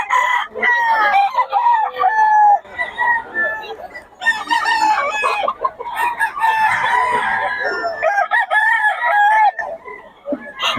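Gamefowl roosters crow loudly and repeatedly up close, their drawn-out calls overlapping with clucking from the flock throughout.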